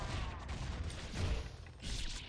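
Explosion in the action game Ninja Gaiden 2: a dense, noisy burst of blasts and crackling debris with low rumbling thumps, loud and continuous throughout.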